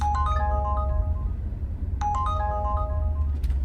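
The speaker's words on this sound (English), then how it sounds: "It was a notification." Phone notification chime inside a car, a bright melodic run of tones played twice with a pause between, heard clearly over a low steady road rumble.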